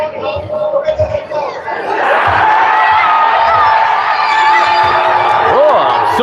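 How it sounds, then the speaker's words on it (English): A street crowd in downtown Toronto, following a Portugal versus Uzbekistan World Cup match, bursts into loud, sustained cheering and whooping after a couple of seconds of murmured chatter, with voices mixed through the roar. "somebody's cheering for joy"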